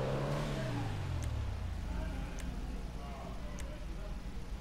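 A Comet Retro car engine in the video game GTA 5, rear-mounted, revs and then settles to a descending, rumbling idle. A few faint sharp clicks sound at regular intervals, with no clear talk.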